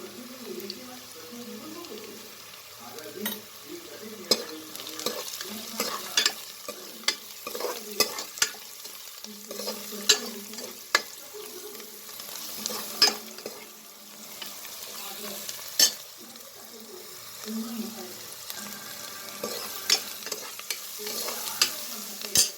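Ingredients for Ranebennur-style biranji rice fry and are stirred in a pan. A quiet continuous sizzle runs under intermittent spatula scrapes and clinks, with faint background talk at times.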